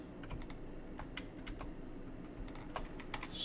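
Keys clatter on a computer keyboard in short bursts of typing, fairly quiet against a steady room hum, with no talking.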